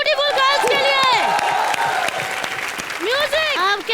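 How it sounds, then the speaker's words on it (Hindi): A television comedy show's studio audience breaks into loud, dense applause mixed with rising whoops and cheering voices that swell near the start and again toward the end. "एक बार जोरदार तालियां ब्यूटीफुल गर्ल्स के लिए।"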